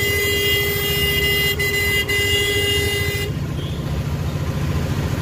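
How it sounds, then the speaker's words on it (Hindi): Car and truck horns honk repeatedly in a traffic jam at a railway station gate, with toots layered over a steady rumble of idling vehicles and general street noise. "यहाँ पे जाम होने की वजह से हॉर्न ज्यादा बज रहा है।"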